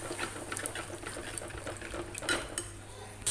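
Beaten yogurt stirred and fried in a pan for chicken do piyaza, with soft clinks of a spoon against the pan and a low steady sizzle underneath, close by with no talk.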